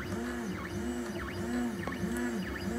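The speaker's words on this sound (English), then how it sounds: "So this is how the 3D printer prints. It will go back and forth, layer by layer" A 3D printer with a hot nozzle lays down a plastic rocket ship layer by layer, its stepper motors whirring steadily with repeating rising and falling whines as the head sweeps back and forth, close and continuous.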